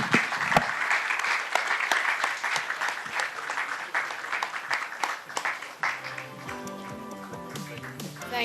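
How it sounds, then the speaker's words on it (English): Audience applause at a business conference, dense sustained clapping that fades as music with steady tones comes in near the end. "A round of applause."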